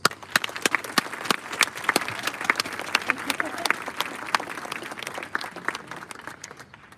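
An audience at a National Honor Society induction ceremony claps to welcome a speaker, with sparse, distinct hand claps from a modest crowd that continue evenly for several seconds.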